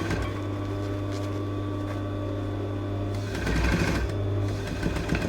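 A sewing machine stitches the centre back seam of a dress in a continuous, close mechanical whirr, pausing briefly and picking up again for a short back tack.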